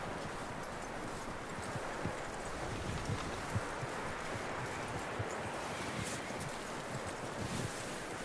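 Horse hooves clip-clop steadily and faintly in Red Dead Redemption 2, a continuous trotting rhythm set against soft wind and outdoor ambience, with no talk.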